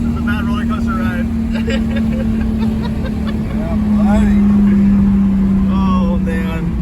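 Interior of someone's 1100 hp Toyota Supra pulling hard on a freeway at night: a loud, steady engine drone holds a sustained tone under road roar, with people talking over it throughout.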